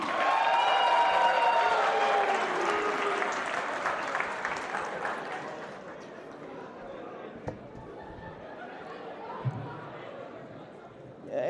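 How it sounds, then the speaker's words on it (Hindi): An audience at a Sydney comedy show applauds for Zain Ali, strong clapping mixed with cheers and voices at first, then gradually thinning and fading to scattered claps and murmurs. "Please put hands together for Zain Ali"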